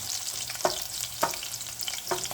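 Garlic sizzling steadily in a hot pan before cubed potatoes go in for an aloo hari pyaz sabzi, with a continuous frying hiss broken by three sharp scraping stirs of a spoon against the pan.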